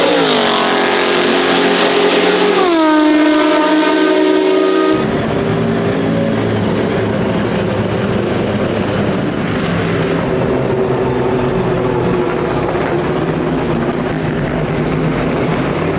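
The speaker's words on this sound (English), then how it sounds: "These sounds from these cars are insane." Vintage race cars on the Montjuic circuit roar past one after another with loud, high-revving engines, one pitch swooping down as it passes close by, then a dense, sustained engine roar.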